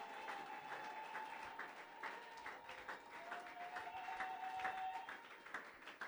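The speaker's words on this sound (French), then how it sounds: "betela nkolo maboko malamu" A church congregation claps in praise of the Lord, sustained applause with a steady clatter of many hands and faint tonal sounds in the background, no speech over it.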